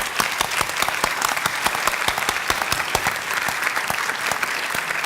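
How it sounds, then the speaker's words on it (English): Audience at a school board meeting gives a round of applause, loud, dense clapping from many people close by, sustained evenly for the whole stretch with sharp individual claps standing out. "tonight, I want you to give them a round of applause for everything that they do."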